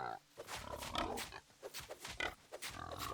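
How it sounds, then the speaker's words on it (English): A boar in the video game Hytale grunts in a series of short, choppy bursts at close range, with gaps of quiet between them. "the cows and these little boars like to do a back kick at you."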